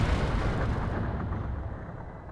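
A bomb storehouse blows up in the Zelda Twilight Princess video game, heard as a loud, low rumbling blast that fills the whole moment and slowly decays.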